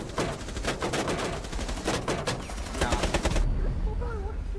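Gunfire in the video game Rainbow Six Siege, rapid bursts of shots crackling through the first few seconds, moderately loud, followed by quieter game sounds and faint voices.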